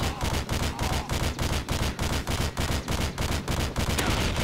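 Gunfire in Modern Warfare 2 during hardcore Capture the Flag on the Quarry map: a loud, unbroken stream of rapid automatic shots with a steady pulsing rhythm and no pauses.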